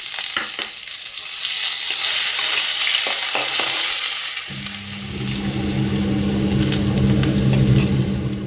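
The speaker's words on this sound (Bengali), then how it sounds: "তো প্রথমে একটু পেঁয়াজ ভেজে নেবো খানিকটা আমি" Onion with green chilli frying in a pan in a home kitchen, a steady close sizzle punctuated by spoon clicks and stirring, joined midway by a low continuous hum.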